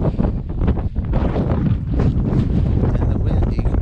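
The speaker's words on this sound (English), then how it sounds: "And the wind, you can probably hear," Strong winter blizzard wind buffets hard against the microphone in a continuous loud roaring rush, with gusty swells and no letup.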